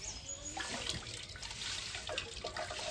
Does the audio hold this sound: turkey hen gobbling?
no